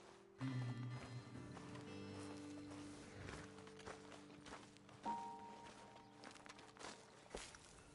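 Horses walk in the Red Dead Redemption 2 video game, their hooves clip-clopping in scattered soft thuds over sustained background music tones.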